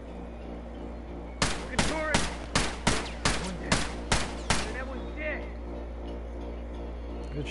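Rapid burst of video game gunfire, about nine sharp, evenly spaced shots over a few seconds, loud and close, followed by quieter background game noise.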